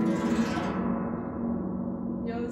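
Pedal harp strings plucked and left ringing, with rich deep bass notes sustaining underneath a warm, steady resonance throughout.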